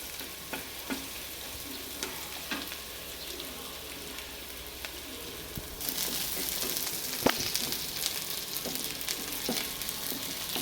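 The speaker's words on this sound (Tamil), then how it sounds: "வெங்காயம் வந்து லைட் கோல்டன் ப்ரௌன் ஆகணும், அது வரைக்கும் நல்லா வணக்குங்க." Onions fry in oil in a pan for tomato rice, a continuous sizzle punctuated by scraping stirs, growing louder and brighter partway through as the cooking intensifies.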